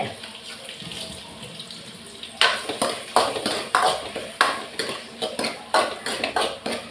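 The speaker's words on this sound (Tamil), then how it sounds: "வெங்காயம், கருவேப்பிலை இதெல்லாம் போட்டு நான் என்ன பண்ணுறேன், வதக்கிக்கிறேன்." Onions and curry leaves sautéing in a pan while cooking karamani kulambu, a steady sizzle underneath with repeated close scraping and stirring clatters of a utensil against the pan.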